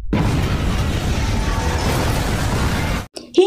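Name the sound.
explosion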